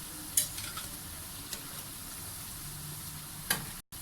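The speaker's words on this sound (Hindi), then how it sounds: "ये ऊपर इस तरह से ऑयल हमारा इतना अच्छा गर्म हो गया था कि खुद से ही ऊपर इस तरह से फ्राई होने लग गए" Onion pakoras fry in hot oil for kadhi pakora with a soft, steady sizzle and a few light clicks from a spoon, heard faintly with no talking.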